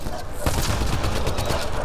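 Rapid gunfire from a firefight in the PC game Mass Effect Andromeda, a dense burst of loud overlapping shots with a sharp crack near the middle, close and continuous over game background noise.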